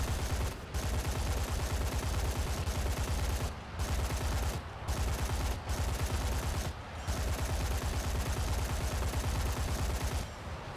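Continuous heavy cannon and machine-gun fire from an IL-28 bomber in War Thunder, long loud rattling bursts broken by brief gaps, with engine roar droning underneath.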